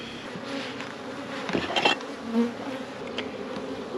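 Honeybees buzzing in a close, busy swarm, a continuous droning hum with individual bees flying past the microphone.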